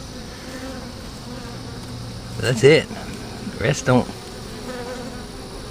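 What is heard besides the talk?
honey bees buzzing at an open hive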